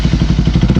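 Bajaj Pulsar RS 200 motorcycle fitted with an Alpha aftermarket exhaust, caught in a brief loud burst of deep, bassy throbbing engine pulses right at start-up, close to the microphone.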